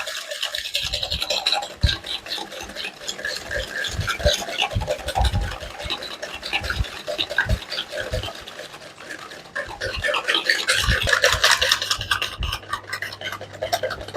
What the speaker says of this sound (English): Now we will whisk it for around 2 to 3 minutes until the mixture gets bit airy and fluffy